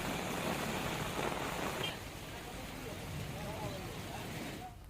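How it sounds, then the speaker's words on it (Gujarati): Heavy rain falls on the roads of Raval village in Kalyanpur taluka, Dwarka district, Gujarat, where the streets are running like rivers. The rain makes a loud, continuous hiss that thins slightly partway through. "ભારે વરસાદના કારણે રસ્તાઓ પર નદી જેવા દ્રશ્યો જોવા મળી રહ્યા છે"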